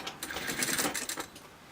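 A sewing machine stitches along the band side of a waistband, following an existing row of stitching. Its quick, busy mechanical rattle runs in a short, steady burst at close range, with no one talking.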